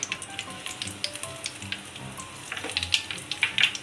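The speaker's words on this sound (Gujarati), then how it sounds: "હવે વઘાર આવી ગયો છે, એમાં 2 લાલ આખા મરચાં નાખીશું સૂકા" Whole dried red chillies and curry leaves hit hot oil for a tempering, producing a close, crackling sizzle with sharp spitting pops that grow busier toward the end.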